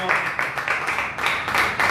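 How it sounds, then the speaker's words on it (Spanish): A church congregation applauding together during a Spanish-language sermon, steady dense clapping that holds for a couple of seconds with slight swells, fairly close and filling the room. "Denle un aplauso al"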